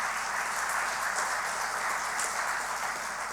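Conference audience applauding at the opening ceremony of a judicial officers' gathering in Saint Lucia, a steady, dense wash of clapping held at even strength throughout with no voices over it.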